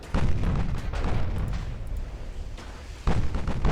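Torpedo hits burst against a heavy cruiser in Ultimate Admiral: Dreadnoughts as a string of deep booming explosions, one rolling into the next, with a fresh loud blast near the end.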